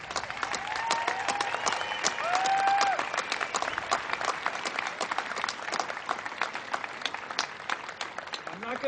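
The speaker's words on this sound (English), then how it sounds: "Hey, round of applause" Outdoor crowd applause at a rally against the Vermont Yankee nuclear plant, many people clapping steadily for several seconds, with a few whoops and cheers rising over the clapping.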